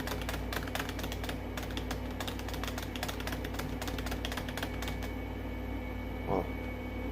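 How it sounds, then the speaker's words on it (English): Steady keyboard typing runs through most of the clip, fast irregular key taps over a constant background hum, thinning out near the end. "I hate tapping on the keyboard."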